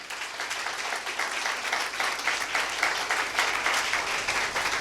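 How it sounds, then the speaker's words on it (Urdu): A congregation applauds during a Good Friday church service, giving dense, steady clapping that fills the whole stretch at an even loudness, with no voices over it. "یسوع کے لیے زوردار تالیاں"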